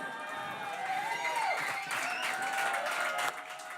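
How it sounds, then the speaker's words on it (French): Audience at a press conference applauds in a steady, diffuse patter of clapping, moderately distant, with a faint tonal sound drifting over it. "Je sais pas qui c'est que vous applaudissez de même"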